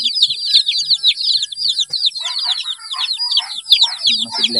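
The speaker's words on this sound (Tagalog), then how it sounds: "Okay naman guys yung ating mga Heritage Chicken." Heritage chickens, Rhode Island Reds and Barred Plymouth Rocks, on a small farm cluck and chirp busily throughout, with a faint crow-like call, several birds close by and loud.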